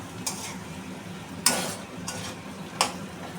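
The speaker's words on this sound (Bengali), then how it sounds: "এটার মধ্যে দিয়ে যতক্ষণ না তেল ছাড়ছে আমি ভালো করে কষিয়ে নেব" Soybean chunks cook in oil in a pan with salt, turmeric and Kashmiri chili powder. A low, steady sizzle runs throughout, broken by three sharp scrapes of the stirring spatula against the pan.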